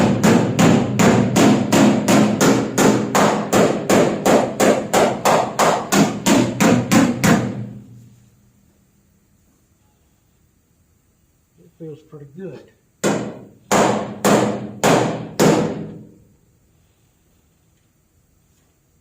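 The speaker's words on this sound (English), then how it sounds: "I may go in there with my good flat hammer" Flat hammer striking sheet metal during body work on a 1970 Cougar: a rapid run of about twenty close, sharp metallic blows, a pause with brief talk, then six more spaced strikes.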